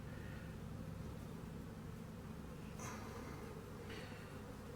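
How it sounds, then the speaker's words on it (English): Honeybees buzzing at an opened beehive during a late-fall inspection, a steady soft drone of many calm bees with a couple of closer passes. "these are some very, very calm bees right here"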